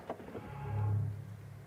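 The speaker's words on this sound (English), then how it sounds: "It's like an AMG goodbye sound." A Mercedes EQE SUV 53 AMG gives its electric locking goodbye sound as the vehicle closes, heard as a smooth motorized whir that swells and fades over about a second, close and fairly quiet.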